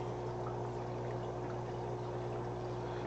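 Water pours in a steady, continuous stream during an aquarium water change while a new tank is being set up, a constant rushing flow under a low electrical hum.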